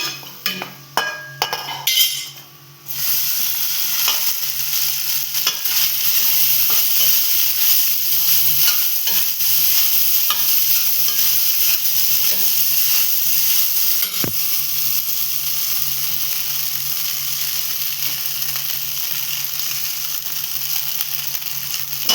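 Rice tipped into hot frying masala in a pan and stirred, opening with a few clinks and clatters of utensils and then settling into a loud, continuous sizzle with occasional light scrapes.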